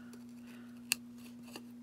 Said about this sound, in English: I can even come back in with my scissors along this edge.